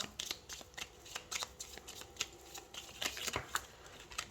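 Tarot cards being shuffled close up, a quick irregular run of crisp riffling snaps and flutters with short pauses, no talking.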